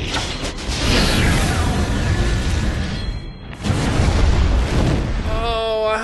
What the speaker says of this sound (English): Seconds before the Zeus cannon's fired at them.